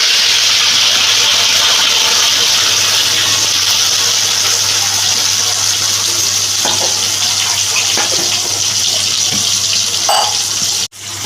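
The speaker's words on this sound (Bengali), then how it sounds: "এবার আমি তেলের মধ্যে এখানে পেঁয়াজ আর কাঁচা লঙ্কা বেটে রেখেছি, এটা দিয়ে দিলাম।" Onion and green chilli paste goes into hot oil for a spicy egg chilli dish, giving a loud, steady sizzling hiss for about ten seconds that ends with a short knock.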